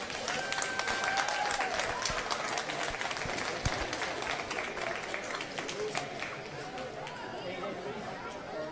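A large audience at a school event applauds loudly and steadily, dense clapping mixed with crowd chatter that holds for the whole stretch and eases slightly toward the end.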